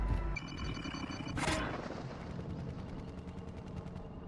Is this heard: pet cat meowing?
no